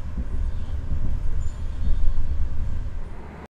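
A Progo economy class passenger train rolls into a station, giving a steady low rumble and rolling rail noise with faint high squeals, heard from on board with no talk.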